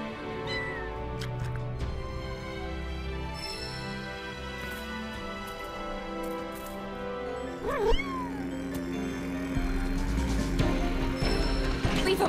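In Final Fantasy 7 Rebirth a cat lets out a single sharp meow partway through, standing out briefly above continuous game music and ambience.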